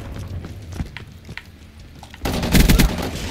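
Light machine gun fire in Black Ops 3, starting as scattered, muffled shots and then breaking into a loud, dense burst of rapid automatic fire for the last second or so.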